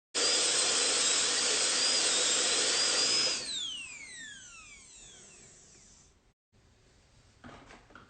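A high-pitched dental drill whines steadily and loudly while preparing a central incisor for a porcelain-fused-to-metal anterior crown, then spins down with a falling pitch and leaves faint handling noise.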